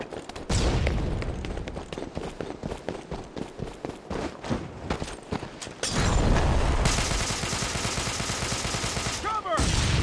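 Gunfire in the video game Devil's Third: rapid bursts of automatic shots and fusillades, loud and close, with running footsteps between volleys, a sustained roar of fire in the second half and a whooshing effect near the end.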